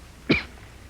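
A woman with a bad cough in a radio drama gives a single short, sharp cough up close, with quiet room tone before and after.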